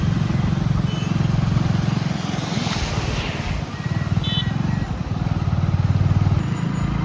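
A motorcycle engine drones steadily at close range with a continuous low rumble, mixed with rushing wind noise as it rides along through Vadnagar, Gujarat.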